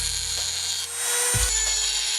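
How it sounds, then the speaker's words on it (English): A power drill bores holes in a plexiglass panel, a steady high whirring grind with a short low thump as the bit bites, close and loud, with no talk. "let's go ahead and drill the holes for those"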